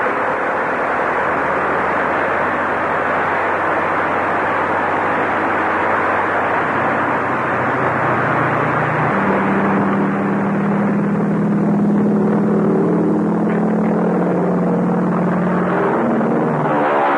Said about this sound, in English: Start the plane.